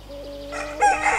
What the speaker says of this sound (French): Ça, c'est un coq.